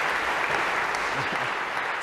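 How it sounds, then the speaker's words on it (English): An audience gives a short burst of dense clapping in a lecture hall, loud and steady for about two seconds. "a round of applause for Spot as well"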